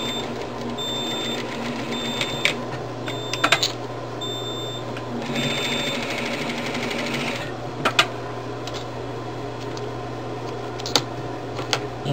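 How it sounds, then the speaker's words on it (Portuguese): Electronic quilting sewing machine stitching a divider seam on a fabric smartphone holder pocket, a rapid mechanical whirring in short bursts with small clicks and thumps between runs. "Aqui no meio tem que dar uma costurinha também, que é para além de dividir o meio da peça, divide o nosso bolsinho."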